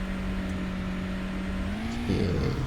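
A car driving across sand in the survival game Under the Sand, its engine droning steadily at a constant pitch and then rising as it revs near the end, with no talking over it.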